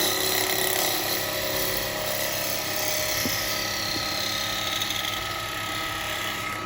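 A woodturning gouge slicing a yew bowl on a spinning lathe, a steady loud whirring hiss with a constant high whine throughout, a couple of brief scraping catches midway; no talking.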